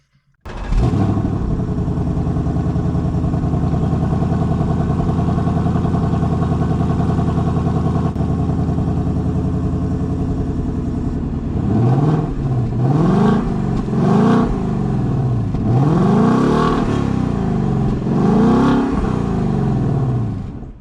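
A 2024 Ford Mustang GT RTR V8 idles loudly and steadily up close, then is revved repeatedly in sharp rising and falling blips over the last several seconds.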